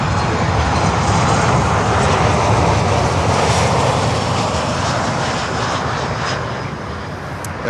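Loud, steady roar of an airplane engine at Miami airport, a broad continuous rumble that holds through and eases slightly near the end.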